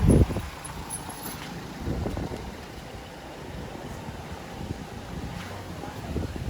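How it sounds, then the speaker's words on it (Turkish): Wind gusts buffet the microphone during a walk through the Çıralı market area near Kemer, Antalya, a strong burst at the start followed by a steady low rumble of blowing air. "Bayağı bir esiyor şu anda hava."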